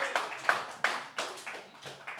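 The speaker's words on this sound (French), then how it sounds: "Applaudissez le poète." A few hands clap sparsely and faintly for a poet at a slam poetry tournament in Nice, the uneven claps spaced out with quiet gaps between them.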